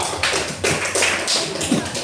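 Classroom of students clapping for group 2, a short burst of brisk, close hand claps with a few taps, steady and moderately loud.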